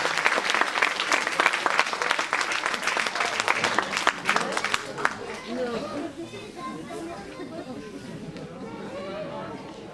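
A crowd at a live stage show applauds loudly and densely for a man joining a performer, then the clapping thins into lively crowd chatter and murmuring.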